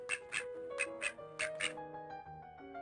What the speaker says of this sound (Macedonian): квакаа пајчињата.